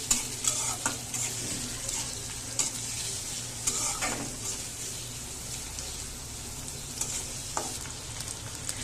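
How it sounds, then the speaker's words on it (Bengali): Chopped onions frying in oil until reddish, a soft continuous sizzle broken by frequent scraping strokes of a spatula stirring the pan, no voices. "পেঁয়াজটাকে ভালো করে ভেজে নিতে হবে একদম লাল করে"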